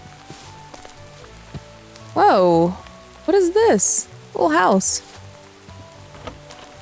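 Steady rain in the video game Minecraft Hardcore makes a soft, continuous patter throughout, with someone talking over it in short bursts.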